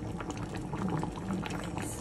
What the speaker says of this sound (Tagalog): Kumukulo-kulo na guys